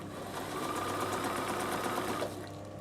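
A domestic sewing machine top stitching a zip into a fabric coolie bag runs steadily at close range, a continuous whirring, rapid stitching drone that holds for over two seconds before slowing and stopping.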